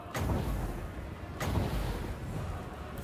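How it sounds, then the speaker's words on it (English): Explosions in a Warhammer 2 Total War High Elves battle, two deep booming blasts about a second and a half apart over a low rumbling battlefield background, moderately quiet. "Don't get hit by the explosions."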